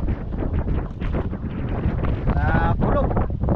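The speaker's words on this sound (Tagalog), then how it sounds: "Lakas yung hangin." Strong wind buffets a small fishing boat out at sea, a loud continuous rumbling gust roar with splashing and creaking, while someone speaks briefly over it.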